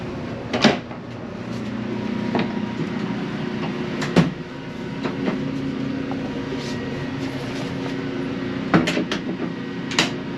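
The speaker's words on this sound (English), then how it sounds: "So lock the door there." A bathroom door on the Via Rail Canadian train is closed and latched: a few sharp clunks and clicks over a steady rumble of the moving railcar, with no one talking.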